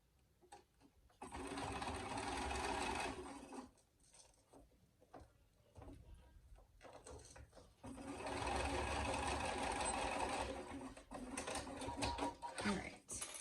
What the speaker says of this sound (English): we're going to sew at a 1/2 inch seam allowance